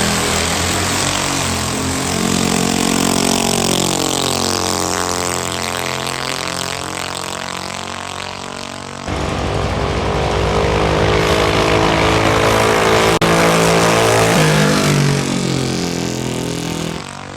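A drag racing car launches down the strip at Lapeer International Dragway. Its engine roars loud and close without a break, with the pitch climbing through each gear and a sharp shift partway through.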